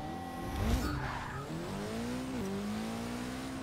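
A Mitsubishi Evo launches down a quarter-mile strip in Forza 6, its engine revving hard with tire squeal at the start, then settling into a steady climbing drone through the gears, with no talking.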